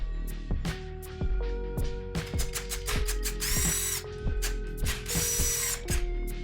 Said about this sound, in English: That's how you re-thread a bolt the cool way.